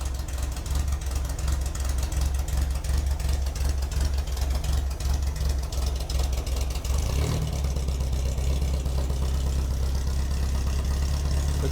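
A 1967 Meyers Manx dune buggy engine idles cold with the choke on, a loud, close, steady low rumble with a fast uneven chugging pulse, briefly dipping before settling back into the same idle.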